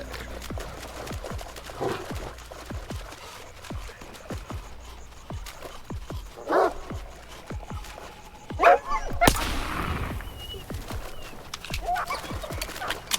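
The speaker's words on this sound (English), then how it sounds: "Let's see if we can eliminate some of these standard dogs." Mutated dogs in the video game STALKER 2: Heart of Chornobyl, scattered barks, yelps and growls amid gunfire-like thumps and a sudden burst of noise, fairly quiet with light game ambience throughout.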